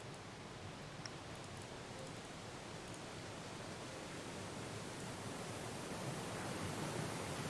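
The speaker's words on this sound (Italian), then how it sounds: "Bella cascata." Steady rushing roar of a waterfall in the video game Syberia 4: The World Before, a broad continuous wash of falling water that stays even and fairly loud throughout, with no voices over it.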